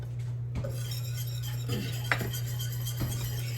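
A small whisk works flour roux in a pot, producing light metallic clinks and scrapes against the pot over a continuous low hum, with a few sharper taps standing out.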